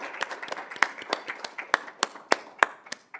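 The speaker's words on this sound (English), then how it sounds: "We want to pause and give you a quick moment, a quick round of applause." Scattered hand claps during a round of applause at a school board meeting, a smallish group clapping unevenly with sharp distinct claps rather than a dense roar, fairly close and steady throughout.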